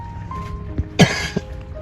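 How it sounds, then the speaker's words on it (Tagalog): A person coughing indoors on a cold, rainy day, one sharp close cough in the middle with smaller throat sounds around it, and faint background noise. "Inuubo ka"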